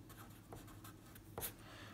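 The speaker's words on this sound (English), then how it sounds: "And I'm going to write that down." Pen strokes while writing out a chemistry titration calculation on paper, a few faint scratchy marks in short separate bursts over quiet room hiss.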